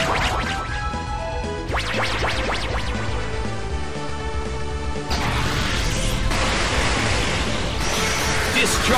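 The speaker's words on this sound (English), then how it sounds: "It's twisting the dimensions in the Colosseum." A dimension-twisting effect from the Pokémon Battle Revolution video game, set in the Colosseum, unfolds as layered whooshing sweeps and tonal swells, then a louder crashing burst of noise partway through.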